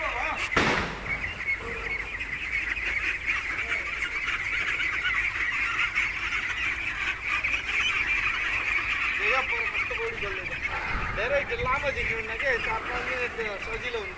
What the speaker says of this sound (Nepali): कति ठुल्ठुलो हाँस भइसकेको छ